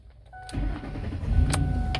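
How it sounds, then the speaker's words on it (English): A Lincoln Navigator engine cranks and catches, settling into a steady idle close by, with faint electronic chimes ringing above the running motor. "I will try to open the car, start it."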